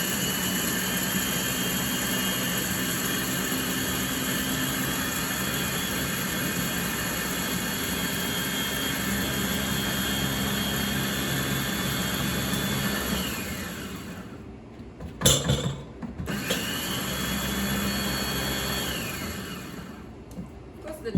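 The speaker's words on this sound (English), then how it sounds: "So I just put it in my chopper in high speed." Food chopper motor whirring steadily at high speed while grinding ingredients into flour for a raw vegan lime cream pie, loud and continuous, then briefly cutting off and restarting.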